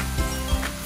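Chicken with lemongrass sizzles in cooking oil in a loud, close, steady frying hiss, with two soft low thumps from stirring in the pan and no voices.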